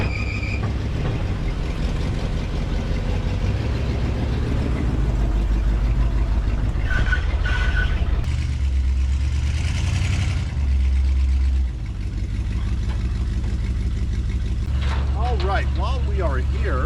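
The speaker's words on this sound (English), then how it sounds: "let's get the old ramp truck fired up" A rough 1986 Chevrolet C-10 ramp truck engine idles with a low, uneven rumble throughout, with voices and clatter mixed over it.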